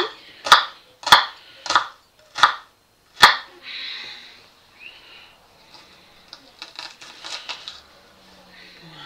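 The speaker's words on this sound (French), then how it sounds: "Donc on coupe en petits." A knife on a cutting board chopping squid or shrimp into small pieces, five sharp loud strikes in slow succession, then fainter scattered clicks and kitchen clatter.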